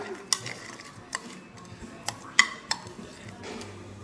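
A dry rub of chili, salt, sugar and Chinese five spice being stirred in a bowl, heard as a handful of light, sharp utensil ticks and clinks spaced irregularly over quiet kitchen background.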